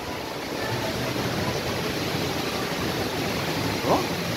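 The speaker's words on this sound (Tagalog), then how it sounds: "Oh, ingay ng tubig mga kaibigan oh." Steady rushing water echoing inside an artificial cave at Yas Waterworld water park in Abu Dhabi, a broad continuous roar close by with no pauses.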